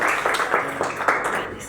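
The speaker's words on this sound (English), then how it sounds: "Please clap for Professor" An audience claps for Professor Magnus at a graduation ceremony, a dense, steady patter of many hands with a few louder individual claps, fairly close and continuous.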